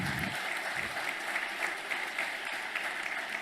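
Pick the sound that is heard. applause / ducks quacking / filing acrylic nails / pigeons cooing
applause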